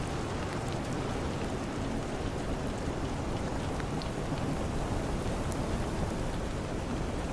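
Rain falling on a boat deck at sea in the Southern Ocean, a steady, even hiss of countless drops with no letup, close and soft, with no voices.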